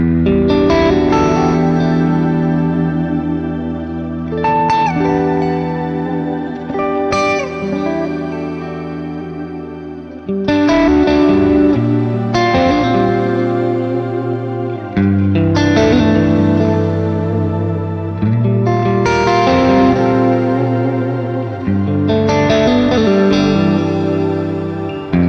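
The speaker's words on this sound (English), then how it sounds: "this is essentially just the clean amp and then the reverb on with the shimmer switch engaged" A clean electric guitar through the Neural DSP Archetype Gojira clean amp with shimmer reverb rings out in sustained chords that bloom and trail off, with pauses between phrases.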